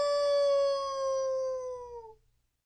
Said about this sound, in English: It sounds like a wolf.